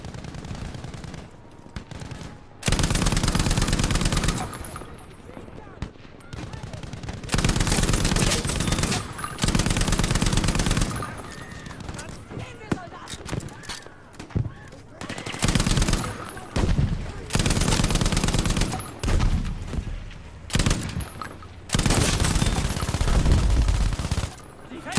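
Bipod-mounted machine gun fire in Battlefield V, sustained loud automatic bursts separated by short pauses, repeated across the span with other battlefield gunfire and game noise between.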